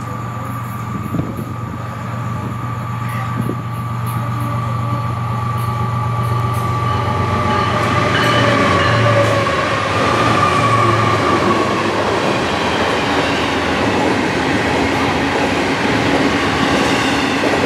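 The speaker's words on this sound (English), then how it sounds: "First up is southbound Hotshot Intermodal 105 with a train of interchange traffic from Norfolk Southern" A long southbound FEC intermodal freight train rumbles steadily past, wheels clattering and squealing faintly on the rails, growing slightly louder as it continues.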